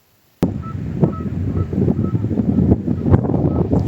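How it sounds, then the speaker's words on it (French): Seals call along the Gaspésie coast, heard as a few rough, honking cries rising over steady wind and outdoor rumble, fairly near, without speech. "C'est des phoques."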